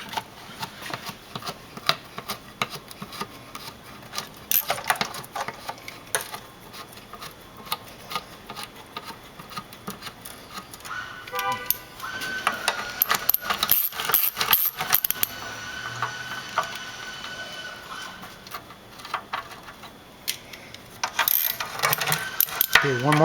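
Small metallic clicks and ticks from a socket wrench working the transmission pan bolts loose underneath a 1994 Mercedes E320, quiet and irregular against a faint background hiss, with brief louder rattles near the middle and end.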